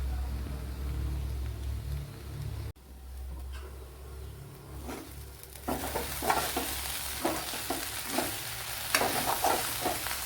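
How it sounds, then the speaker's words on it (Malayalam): Okra thoran being stirred in an open pan as it cooks with coconut and cumin, a steady sizzle with repeated scraping strokes of a spoon, growing louder partway through after a quieter start. "ഒന്ന് തുറന്ന് വെച്ച് ഒരു അഞ്ച് പത്ത് മിനിറ്റ് ഒന്ന് ഇളക്കി കൊടുക്കണം"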